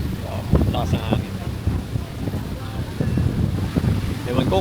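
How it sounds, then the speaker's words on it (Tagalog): Strong seaside wind in Cancun buffets the microphone with a continuous rumbling roar, waves and surf faintly beneath, while people talk intermittently over it. "lakas ng hangin"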